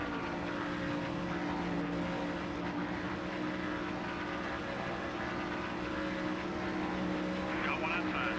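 Chevrolet stock car engines racing in a NASCAR video game, a steady droning roar of several cars at a constant level throughout, with a voice talking over them.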